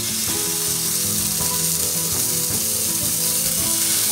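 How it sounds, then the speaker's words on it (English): Ground beef hits a heated pan and sets off a constant, loud sizzle and crackle. Faint tonal sounds hum underneath, and no voices are heard. "In a heated pan, we're going to add our ground beef."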